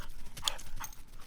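Hendrix the dog gallops off after a thrown toy, his paws making quick, hoof-like clip-clop thuds in a short, fairly faint burst.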